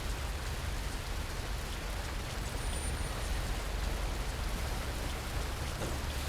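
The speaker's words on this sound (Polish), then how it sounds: "No znowu pada deszcz." Steady rain falls throughout the Fernbus Simulator bus-driving game, a dense even hiss of drops on surfaces with no pauses, no thunder and no talk over it.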